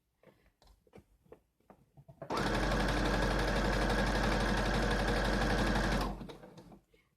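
A sewing machine stitching along the edge of a T-shirt runs in one loud, steady mechanical whir for about four seconds, close by, with soft handling clicks and rustles before and after.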